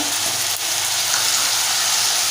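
Chopped brinjal and potatoes frying in hot oil, a loud, continuous hiss and sizzle with no talking.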